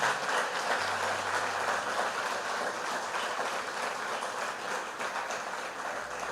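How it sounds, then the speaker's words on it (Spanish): A church congregation applauds in a sustained burst of many hands clapping together, fairly loud and filling the room from start to finish. "Denle ese aplauso al Señor."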